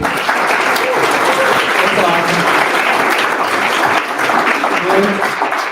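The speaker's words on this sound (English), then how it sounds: "Round of applause for our speakers." An audience at an AI meetup claps for the speakers in sustained, dense applause lasting several seconds, loud and close, with voices mixed in underneath.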